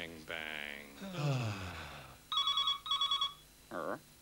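An old telephone rings in a 1988 British business television advert, with two quick trilling bursts in the middle, after breathy vocal gasps and sighs, followed by a short swooping tone.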